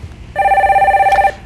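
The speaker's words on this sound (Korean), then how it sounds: "전화 한번 받아보도록 하겠습니다" A telephone rings once for a call-in on a Korean stock-market broadcast, a single loud, warbling electronic ring lasting about a second over a quiet background.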